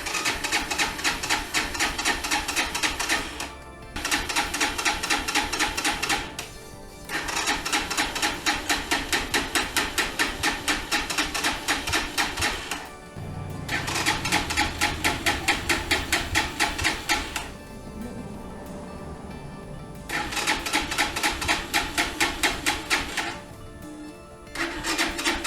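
A Lifan KP200 motorcycle engine starts for the first time and runs with a rapid, rattling mechanical beat, loud and close, broken by a few brief pauses and revs over roughly twenty-five seconds.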